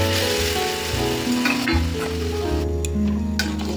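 Boiled water poured onto fried masala with chickpeas and rajma in a pan, giving a steady loud sizzle and bubbling throughout, with a few clinks near the end.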